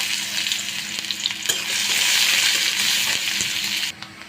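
Loud, close frying as onions hit hot oil left from frying fish, a dense crackling sizzle with a few stirring knocks, cutting off abruptly at the end.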